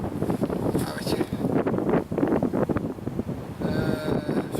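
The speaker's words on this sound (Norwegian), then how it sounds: "som jeg hører på mikrofonen, så blåser det ganske sånn" Gusty wind buffets the microphone in rough, uneven rumbling bursts, loud and close throughout, on a solo winter ski tour in Nordmarka, Norway.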